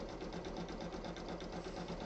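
An embroidery machine stitches a rabbit face, its needle driving a fast, steady mechanical whir with an even rhythmic pulse that runs close and unbroken throughout.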